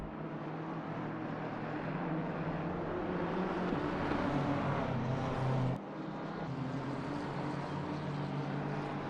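BMW race cars lapping Spa-Francorchamps in the Assetto Corsa racing game drone continuously and loudly, their engine roar holding steady throughout except for one brief dip partway through.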